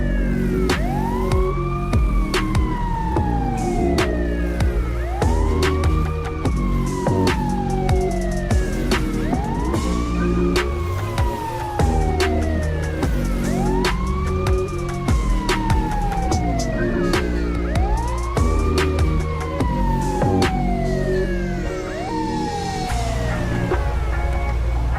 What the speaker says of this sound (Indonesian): terlihat di sini ambulans sudah datang